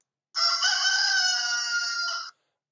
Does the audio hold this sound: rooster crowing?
yes